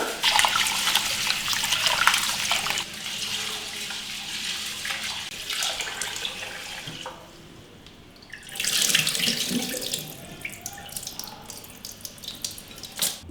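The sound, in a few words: washing rice in water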